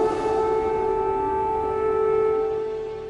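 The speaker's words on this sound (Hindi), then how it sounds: "कीव में रह रहकर बजते सायरन ऐलान कर रहे हैं कि अब किसी भी वक्त रूसी सेना कीव में दाखिल हो सकती है" Air raid sirens wail over Kyiv in a steady, sustained tone with a strong harmonic hum, heard from a distance and holding level before fading slightly at the end, with no voices.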